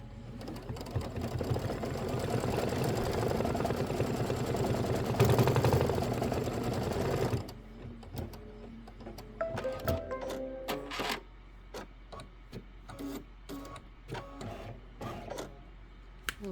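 An embroidery machine stitches a quilt applique block with a dense, steady mechanical whir for several seconds, then stops, leaving scattered clicks, snips and handling noises close by.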